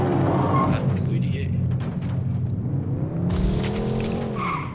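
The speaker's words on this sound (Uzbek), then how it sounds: "Drift qilishga qaraylik." A car in a video game drifts with long squealing, skidding tires over a roaring engine, loud and sustained throughout, with a voice talking over it.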